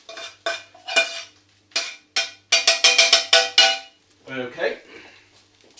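Chicken thighs and onion being moved into a cooking pan for kokkinisto, loud clattering metal scrapes and knocks in quick bursts, close up, ending with a short spoken word.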